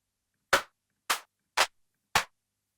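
Four crisp electronic clap samples played in a music production program for a Latin tech house loop, evenly spaced and loud against total silence, each a short bright burst.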